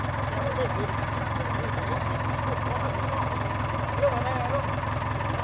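A three-wheeler samlor engine idles with a low, steady rumble and a faint knocking throb, running continuously at close range.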